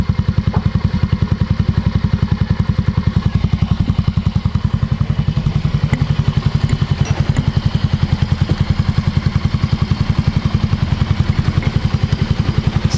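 A Yamaha Mio scooter engine idles close by, its rapid even putter steady and loud throughout with a light mechanical clatter.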